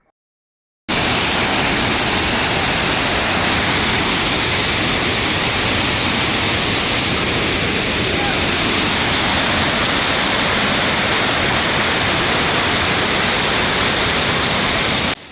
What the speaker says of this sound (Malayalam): ഭയങ്കര വെള്ളച്ചാട്ടത്തിൻ്റെ നല്ല അതിമനോഹരമായ സൗണ്ട്.